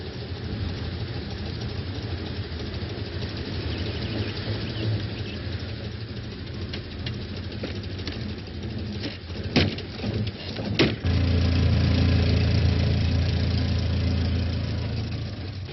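Small 850 cc Citroën car engine from the 1920s idling steadily for the whole stretch, a constant low mechanical hum with a few brief knocks and a slightly louder, rougher patch near the end.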